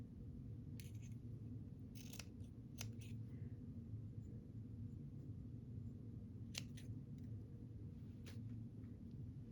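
Scissors snip through cheesecloth for a snippet clusters craft: a few quiet, crisp cuts in two brief bursts over a steady low room rumble.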